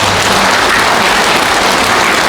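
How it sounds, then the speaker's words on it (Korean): A Buddhist temple congregation applauds warmly during a regular dharma service, dense sustained clapping from many hands, loud and close throughout. "우리 형제 여러분의 뜨거운 찬탄의 박수 부탁드리겠습니다"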